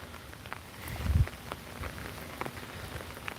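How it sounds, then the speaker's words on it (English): Steady rain patters on a surface in the British outdoors, a light, even hiss with scattered drops and one brief louder thump, no voices. "I think the rain started to ease off, which is nice to hear it chill"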